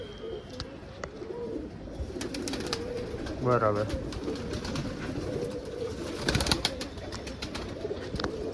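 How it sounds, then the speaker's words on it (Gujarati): White pigeons coo softly amid a busy outdoor background, with brief talking, shuffling and a few sharp knocks nearby. "કોરું વ્હાઈટ કબૂતર જો"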